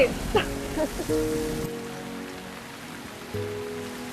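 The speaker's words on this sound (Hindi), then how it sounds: "बारिश हो रही है।" Steady rain hisses down in a domestic drama scene, a soft continuous wash with sustained tonal sounds layered over it.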